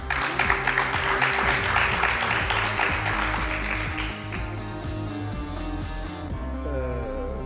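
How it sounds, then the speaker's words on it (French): Studio audience applauding on a French-language television quiz show, a dense steady patter of clapping that tapers off toward the end, with music playing underneath. "Vous êtes fatigué d'applaudir"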